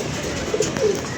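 Pigeons cooing among a flock of Indian pigeons, with a couple of soft, low coos in the middle of a faint, airy background; brief and moderately close, no talking.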